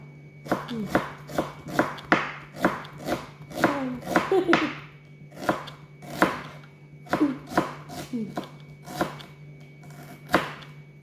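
A knife chops onion on a board with the eyes closed, making a rhythmic run of about twenty close, crisp strikes with short pauses, while a voice is faintly heard.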